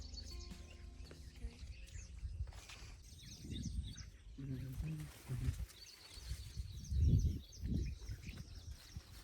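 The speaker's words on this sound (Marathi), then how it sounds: "मस्त सकाळी सकाळी चिमण्यांचा आवाज येतोय." Faint, scattered sparrow chirps in the early morning in a village, over a low rumbling outdoor background, with occasional nearby shuffling; no clear speech.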